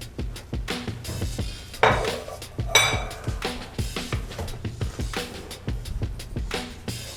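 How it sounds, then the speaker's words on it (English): Meat dumped into an oiled pan on a stove, with a steady run of close clinks and scraping knocks from pan and utensils. "We're gonna add a little oil to the pan. And then dump the meat in."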